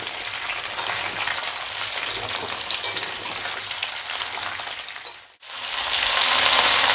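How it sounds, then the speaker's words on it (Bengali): Raw mango pieces fry in oil with panch phoron, a loud, steady sizzle with stirring scrapes that briefly cuts out near the end before resuming strongly. "আমটা আমি ভালো করে এই তেলে আর পাঁচফোড়নের সাথে কষিয়ে নেব।"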